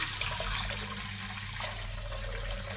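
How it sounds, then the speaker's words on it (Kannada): Water poured into a cooking pot while making Mysore-style thili saaru, a steady splashing pour that runs the whole time at moderate level with no talk over it. "ನೀರು ಹಾಕ್ಕೊಳ್ಳಿ"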